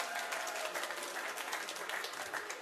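A comedy show audience applauds in a dense, steady wash of clapping, fairly distant and sustained across the room with no break.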